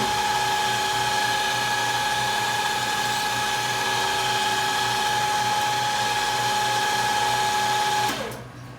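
Steady high-pitched whine of a small drill boring tiny holes in hardened stainless steel, running continuously and close for about eight seconds before spinning down and stopping abruptly.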